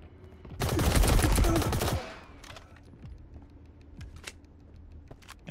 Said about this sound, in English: the PPSH, while it does have a high amount of recoil, it's got a high fire rate, so it can spit out a lot of bullets